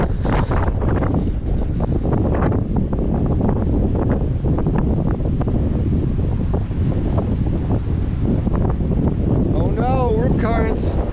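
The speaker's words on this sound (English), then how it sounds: "It's windy as hell over here." Strong, gusty wind buffets the microphone at a beach on Little Talbot Island, Florida, with surf roaring underneath and a voice speaking intermittently over the constant blustery noise.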